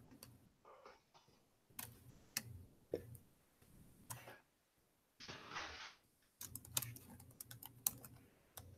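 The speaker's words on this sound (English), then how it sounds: "I'm going to type it for you." Quick bursts of clicking keystrokes on a computer keyboard, close and fairly quiet, come in uneven runs separated by short pauses.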